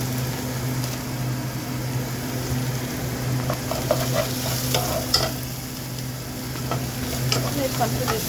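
Onions hit a little olive oil in a pan and sizzle steadily, a close, continuous frying hiss with occasional scraping stirs over a low kitchen hum.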